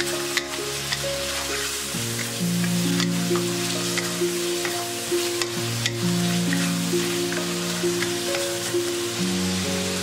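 Chicken sizzles loudly and continuously in a wok as its sauce is reduced over high heat with the lid off, with soft background music playing throughout.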